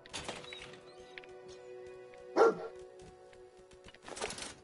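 The dog Dogmeat in Fallout 4 gives a single sharp bark midway, fairly close, amid quiet background hum and a few faint game noises.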